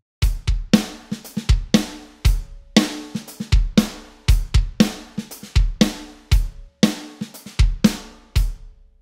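A basic drum loop repeating steadily, punchy kicks and snares with crisp hits in a regular rhythm, loud and alone.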